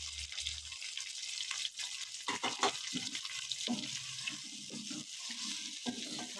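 Grated carrots frying in a pan for jaggery rice pinni while a spoon keeps stirring them, a steady close sizzle broken by scraping and clattering strokes.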